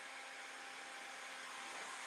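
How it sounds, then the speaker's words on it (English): A heat gun blows hot air while bending wood, giving a steady close whooshing hiss that holds at an even level throughout with no talking. "this is a heat gun I'm using at the moment"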